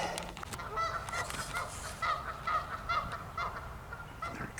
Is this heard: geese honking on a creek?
yes